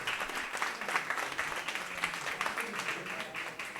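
An audience applauds at a university open forum, dense sustained clapping from many hands that fills the room and fades slightly toward the end.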